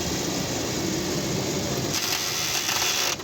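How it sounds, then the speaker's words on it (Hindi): Steady harsh grinding and whirring from a faulty automatic gearbox as the shift lever is moved through R, D and P, loud and continuous with a brief change near the end, no talk. "लीवर जब ऊपर नीचे करते हैं तो गाड़ी जो है बाहर से एक बड़ी अजीब तरीके की जो है वो कर्र की आवाज़ आती है"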